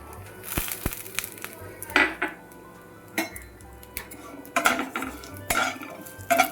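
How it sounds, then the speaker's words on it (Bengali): Vermicelli stirred and fried in ghee in a wok, with a ladle clinking and scraping against the metal in irregular bursts, close by, over a quiet sizzle. "সিমুইগুলো এভাবে নাড়তে নাড়তে একটু লাল লাল করে ভাজবো"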